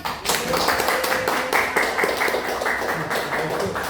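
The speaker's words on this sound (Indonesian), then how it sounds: "Tepuk tangan dong." School teachers at an education workshop clapping together, a moderately loud, continuous patter of hands that stays fairly even for the whole stretch.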